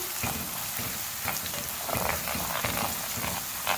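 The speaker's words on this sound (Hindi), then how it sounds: "प्याज़ों के साथ ही हम फ्राई करेंगे" Onions frying with ginger garlic paste for aloo methi sabzi, a steady close sizzle with crackling bursts and light stirring scrapes throughout, no voices.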